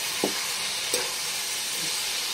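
Spices and turmeric fry in a pan with a constant bright sizzle, broken by a couple of soft scraping stirs of a spoon through the mixture.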